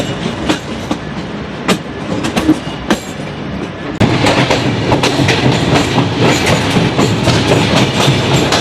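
Jahanabad Express passenger train running on the rails in Bangladesh, a steady loud rumble with sharp rhythmic wheel clacks over joints, the noise thickening and growing louder partway through.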